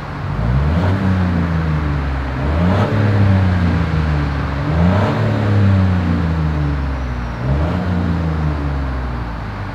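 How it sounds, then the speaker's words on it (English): A 2021 Chevrolet Trailblazer engine revs repeatedly, its exhaust note rising and falling in several cycles, loud and close with a deep rumble between revs. "here is that exhaust clip."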